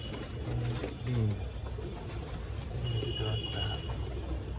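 Domestic pigeons at a rooftop loft give soft, low coos in short bursts, with a quiet voice talking over them.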